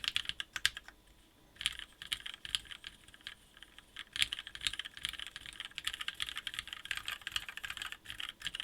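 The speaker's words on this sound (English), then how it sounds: "this is the sound that I'm expecting from ABS caps" Steady typing on a TGR-910 mechanical keyboard fitted with Nixie switches and ABS keycaps, a close, continuous run of clacky keystrokes with a few brief pauses and no talking.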